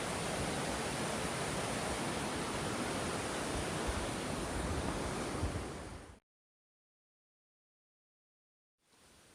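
Milky glacier river water rushing steadily along a hiking trail, a loud, dense broadband roar that runs alone for about six seconds, cuts to silence, then briefly returns at the end.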